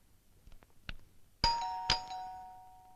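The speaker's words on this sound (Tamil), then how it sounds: "காலிங் பெல் அடிக்குது" Two bright chime tones from a doorbell ring out and decay slowly, preceded by a few soft knocks or clicks, with no talking.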